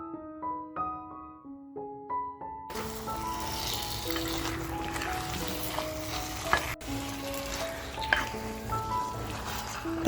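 Saoji-style mutton sizzles in fried masala over a slow flame, a soft continuous frying crackle under background music that plays alone at first before the cooking sound joins in.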